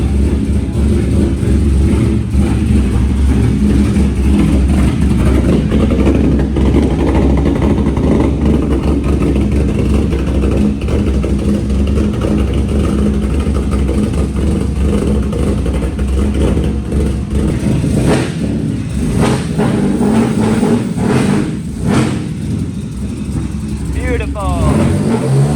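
Honda V6 with CNC ported heads runs and revs continuously, a loud, close engine drone with rising throttle blips near the end while people talk over it.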